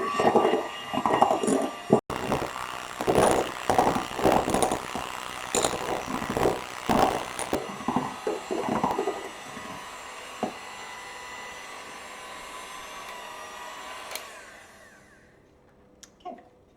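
An electric mixer whirs through pavlova meringue mixture flecked with vanilla seeds, a loud pulsing motor drone for several seconds that steadies, fades and stops, leaving near silence.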